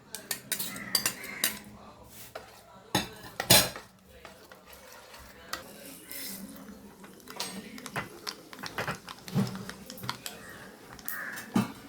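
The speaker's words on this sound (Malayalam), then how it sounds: "ഞാൻ ഈ തൈര് ഇതിനകത്തോട്ട് ഒഴിക്കുവാണ്." Curd poured into a pan of coconut oil with mustard seeds, then stirred, giving scattered metallic clinks and scrapes of a spoon against the pan, fairly faint and close, with sharper knocks partway through.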